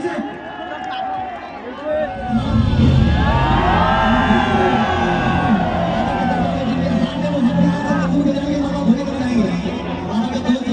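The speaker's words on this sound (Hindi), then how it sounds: "जोरदार तालियों से उत्साह वर्धन करो गोविंदा का।" A dahi handi crowd cheers and whoops for the Govinda pyramid, a dense, loud roar of voices and babble that swells after a quieter start and stays lively throughout.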